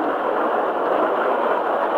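A train rolling along a wilderness railroad line heard from on board, a steady, unbroken rumble of wheels and engine holding at an even, fairly loud level with no voices.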